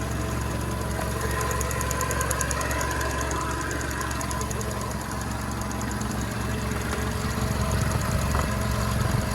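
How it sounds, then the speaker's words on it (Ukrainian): A Skoda Octavia engine idles steadily with a continuous low rumble and faint mechanical ticking, unchanging throughout and heard up close. "Двигун працює ідеально"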